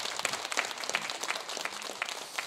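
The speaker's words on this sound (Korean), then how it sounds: "멋진 강연해 주신 우리 장군님께 다시 한번 큰 박수 부탁드리겠습니다" Audience applause after a lecture by a Korean general, a short burst of many hands clapping at moderate distance, fairly quiet and steady with no talk.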